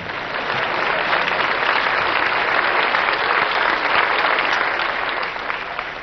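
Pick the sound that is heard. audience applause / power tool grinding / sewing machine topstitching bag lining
audience applause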